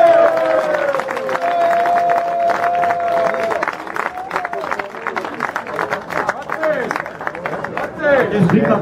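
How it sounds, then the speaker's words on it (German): Clapping and crowd noise mixed with voices, a lively applause from a gathered audience at a party celebrating promotion to the top league, with speech heard over it. "Applaus!"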